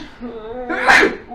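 A single loud human sneeze, a sharp sudden burst after a short voiced intake, close and clear during a tabletop role-playing game session.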